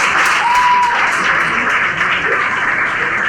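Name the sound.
audience applause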